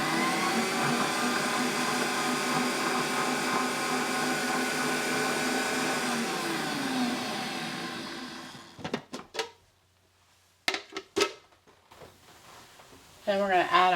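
A stand mixer beats shortening for shoofly pie whoopie pie batter, a loud, steady motor whir running continuously for about eight seconds before stopping, followed by brief knocks and handling noises.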